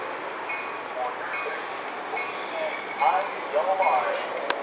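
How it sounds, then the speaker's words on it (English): An inbound Metra commuter train bound for Chicago pulls into a station, with rolling rail noise, wheel squeals and clanks growing louder near the end, heard under a station announcement. "The next inbound Metro train to Chicago is now arriving in your station."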